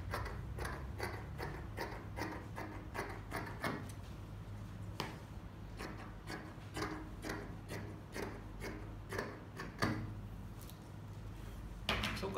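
Dress fabric being cut with scissors for a wrap-style dress with a gathered skirt, giving repeated crisp snipping strokes in steady rhythm over a low background hum, close and moderately loud.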